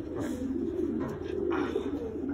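Soft, low racing-pigeon cooing in Belgium rolls on continuously, a throaty murmuring warble close by with a faint airy background.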